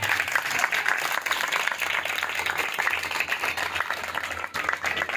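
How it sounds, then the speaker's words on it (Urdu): A church congregation claps together in praise, a continuous close round of many hands with a loose uneven rhythm that holds steady for several seconds. "آئیے خداوند کے جلال کے لیے ایک دفعہ اور تالیاں بجا کر خدا کا"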